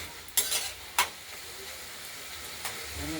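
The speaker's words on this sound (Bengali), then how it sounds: "এবার নেড়ে চেড়ে মাখা মাখা হবে" Bottle gourd curry with small shrimp and sugar stirred in a pan, a faint steady sizzle with two sharp scraping strokes early and a softer one later.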